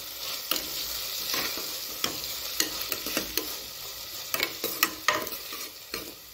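Carrot, beans and potato sautéing in a pan for veg pulao: a soft sizzle runs under repeated spatula clicks and scrapes as the vegetables are stirred and tossed, with no voices.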